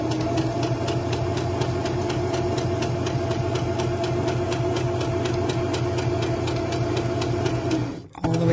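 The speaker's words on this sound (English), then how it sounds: "Sew as straight across as you can." A sewing machine stitches a boffer sword cover for LARP, a steady close mechanical hum with a fast even needle rhythm that runs continuously before stopping abruptly near the end.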